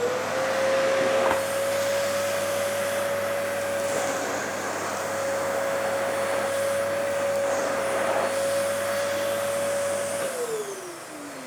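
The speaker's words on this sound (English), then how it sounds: "we're going to see how well it picks up this dirt. So I'm just going to move that slightly out of the way. Power on." Vacmaster D8 vacuum cleaner running on carpet, a loud, steady motor whine and rushing suction held for about ten seconds before the motor winds down at the end.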